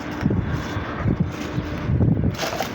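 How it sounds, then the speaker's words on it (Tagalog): Strong wind from an approaching sandstorm buffets the microphone in uneven gusts, a loud rumbling roar with rustling, and no talk. "Palapit ng palapit na yung sandstorm mga lods."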